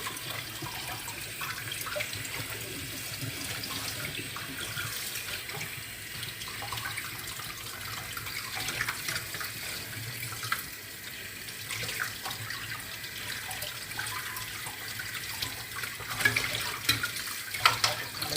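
Tap water running steadily into a sink while pork ribs are washed, with a continuous close hiss and occasional splashes and handling sounds, no talking.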